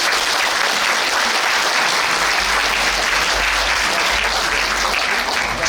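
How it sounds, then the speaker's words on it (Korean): Audience at a reunification rally in a National Assembly conference hall clapping loudly and steadily throughout, a continuous full round of applause with no talk over it. "큰 박수로 환영해 주시면 감사하겠습니다."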